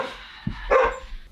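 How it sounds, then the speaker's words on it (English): A pet dog whines and gives a couple of short barks from behind a closed door, muffled and fairly faint, in a single brief outburst. "my dog whining and barking"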